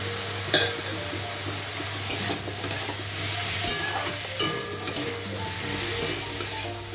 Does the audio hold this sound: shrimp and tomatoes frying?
yes